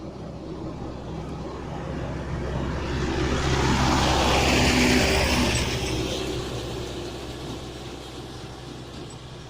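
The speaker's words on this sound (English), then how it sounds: "Tractor." A tractor engine passes on a rural road in Latvia, its rumble swelling to a peak midway and then fading as it moves away.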